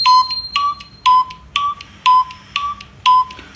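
An Android phone's speaker plays a test tone, seven evenly spaced short, bright beeps about half a second apart, loud and alone.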